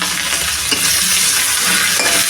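Ginger and chili paste fries in hot oil in a pan while cooking cabbage, a loud, dense sizzle with a couple of brief stirring scrapes, no voices.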